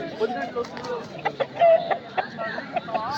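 A rooster clucks in short, repeated bursts close by at the Krishnagiri market in Tamil Nadu, some calls sharper than others, over a low background hum.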